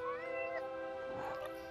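A video game cat lets out a drawn-out, wavering meow with a rising then falling pitch, close and clear over a soft game ambience, in a single call lasting under two seconds.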